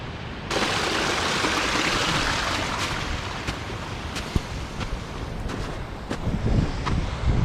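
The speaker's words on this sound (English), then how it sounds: "Look at all those streams coming down." Mountain streams pour down the slopes of snowy Glencoe, making a steady, broad rush of water with wind buffeting the microphone and occasional soft knocks, with no talking.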